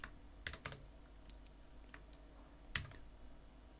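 Sparse keystrokes on a computer keyboard while entering Lua code, a handful of faint separate clicks with gaps between them over a quiet electrical hum.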